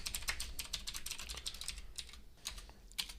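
Someone types on a computer keyboard, entering Python code, producing a quick, irregular stream of light key clicks with occasional louder taps, close and alone.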